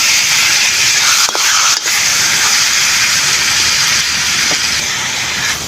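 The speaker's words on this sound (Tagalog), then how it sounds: "Habang ginigisa po natin yung ating karne" Pork meat, pigue cut for binakol, sizzling in a pan with browned garlic and onion, a loud steady hiss and spatter filling the whole stretch with a couple of brief dips.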